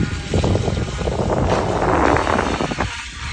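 A steady engine drone with rushing wind and water noise, like a motorboat cruising along, continuous and fairly loud.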